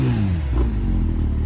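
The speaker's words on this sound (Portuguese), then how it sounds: "Quem está a fazer revs?" A car engine revs at the Nürburgring CarFreitag gathering, a loud, continuous engine roar with a brief rising rev in the middle and no talk.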